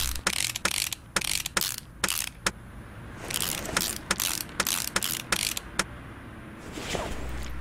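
A ratchet removes bolts on a pickup in Car Mechanic Simulator 2018, a series of sharp, close, rhythmic clicking bursts repeating across the clip against a low steady background.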